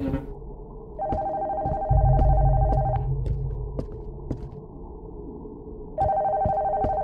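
A telephone rings inside a haunted house, two long electronic ring bursts separated by a pause, loud and steady over a low throbbing hum with occasional clicks.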